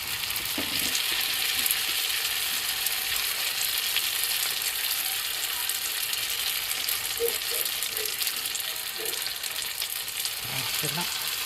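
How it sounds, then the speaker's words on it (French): Constant loud sizzle and crackle of bourak pastries frying in hot oil close by, with a few faint clinks mixed in. "Bon, nous allons passer à la friture."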